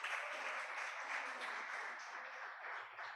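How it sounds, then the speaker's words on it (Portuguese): A church congregation at a Sunday service applauds in a steady, even wash of clapping that holds for several seconds, soft and somewhat distant. "Uma salva de palmas para ele."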